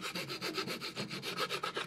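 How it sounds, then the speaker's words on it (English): Wood is sanded by hand in quick, regular back-and-forth strokes, a close, rhythmic scratchy rasp with no talking. "a little bit more sanding"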